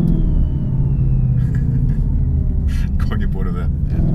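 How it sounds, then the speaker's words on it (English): Supercharged V8 of a rare 800 hp Shelby Mustang Terlingua rumbling steadily from inside the cabin during a drive, a low continuous drone with people talking over it. "Something about a supercharged V8"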